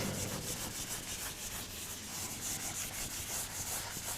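Writing being rubbed off a board during a chemistry lesson: continuous soft scrubbing strokes in a steady back-and-forth rhythm, fairly faint and close, with no talking.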